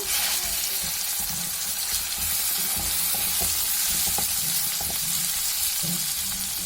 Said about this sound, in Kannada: ಈ ತರ ಚೆನ್ನಾಗಿ ಫ್ರೈ ಆಗಬೇಕು ಈರುಳ್ಳಿ ಟೊಮೊಟೊ